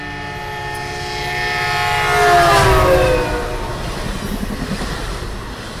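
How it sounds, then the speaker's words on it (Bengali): Long-distance trains rush through a railway station, the rumble swelling to a loud peak with a horn-like tone before fading into a rattling clatter, with no voices. "এর মধ্যে দুটো দূরপাল্লার ট্রেন ধুলো উড়িয়ে দিয়ে চলে গেল"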